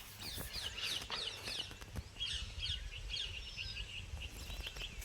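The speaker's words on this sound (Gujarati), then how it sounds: "ચકલો રે અવાજ આવે" Outdoors on a farm, small birds such as sparrows chirp continuously in quick, high twittering bursts against steady field ambience, with no talking.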